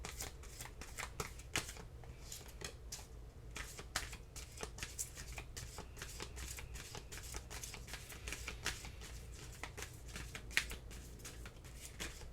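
Tarot cards being shuffled by hand, a steady run of crisp riffling and flicking strokes close up, fairly quiet and continuing for several seconds without talk.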